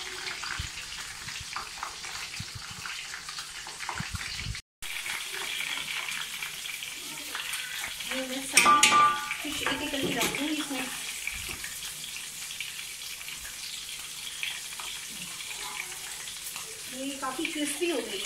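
Fish frying in a pan for a fish curry, a steady broad sizzle running throughout, with a brief dropout and a louder crackling burst partway; a voice talks over it at times.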